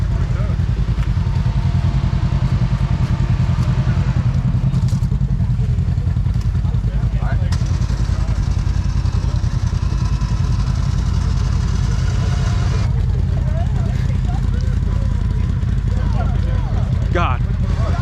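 A Polaris RZR off-road vehicle's engine rumbles steadily and loudly up close at an off-road park, its low drone running the whole time beneath people talking.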